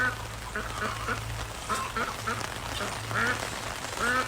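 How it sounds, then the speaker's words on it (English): Several Pekin ducks quack repeatedly nearby, raspy calls in irregular bursts over a low background hum, with some honking mixed in. "the easiest way to tell if your Pekin duck is a male or female is actually by its quack"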